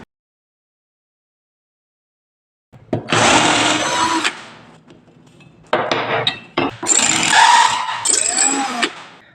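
Silence, then a loud, harsh whirring burst of drilling into carbon steel lasting over a second, a quieter pause with clicks, then another sustained grinding whir.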